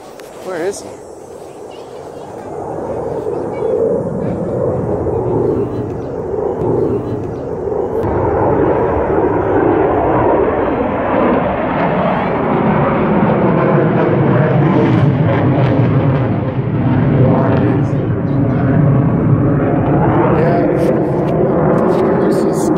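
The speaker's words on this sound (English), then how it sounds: "I hear the airplane again." A steady airplane engine roar builds and lingers for the whole stretch as the plane passes overhead of a small zoo, loud and continuous with no talking.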